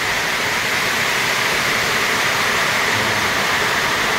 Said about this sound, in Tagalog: Hindi ako makakilos, malakas ang ulan.